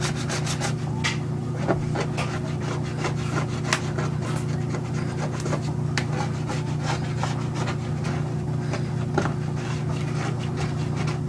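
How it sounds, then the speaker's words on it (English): A scraper drags steadily across a snowboard base, stripping off old wax in a continuous close, gritty rasp over a low constant hum, with sharper clicks as each stroke catches. "You want to scrape all your old wax off, or as much of it as you can."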